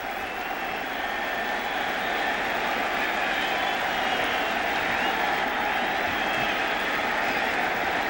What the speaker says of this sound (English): you're going to hear cheering all night